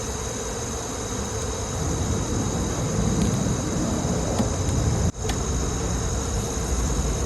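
Honey bees swarming around a hive frame during a late-season swarm catch, a loud, steady, dense buzzing that fills the whole span close by, with no voice.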